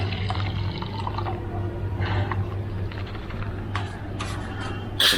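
Bloodworms mixed with water pour into a home fish tank where a sponge filter runs, giving soft splashing and trickling over a steady low hum of aquarium equipment, with a brief louder splash at the end.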